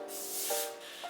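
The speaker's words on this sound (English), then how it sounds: "I'm going to take some of this Kenra hairspray, and I'm just going to kind of spray it all over the perimeter of my hair" Kenra hairspray sprays around the perimeter of the hair in a close, steady hiss lasting about half a second, followed by a softer, brief second burst.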